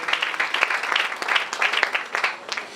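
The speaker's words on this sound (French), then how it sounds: "Acclamons très fort pour le Seigneur." A church congregation claps and applauds in praise, a steady, dense patter of many hands sounding fairly close for a few seconds.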